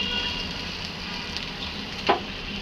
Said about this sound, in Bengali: এখানে দিয়ে দিলাম রান্নার রেগুলার তেল, দিয়ে দিলাম পেঁয়াজ কুচি